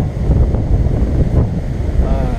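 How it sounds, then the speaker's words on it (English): Strong wind buffets the microphone in continuous, roaring gusts, rising and falling in loudness throughout, during a DJI Mavic 2 Pro drone flight. "Strong gusts right now."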